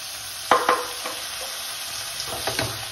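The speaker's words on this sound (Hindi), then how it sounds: "अब आप इसको अच्छे से चला लें और फिर इसको 2 मिनट ऐसे भूनते रहें मीडियम फ्लेम पे" Tomatoes stirred into frying onions in a pan over a medium flame, a steady sizzle with a few close scraping strokes of a spoon.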